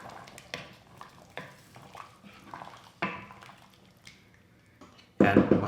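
Lechon paksiw being stirred in a cooking pot, with scattered soft scrapes and clinks of a utensil against the pot and a louder clatter near the end.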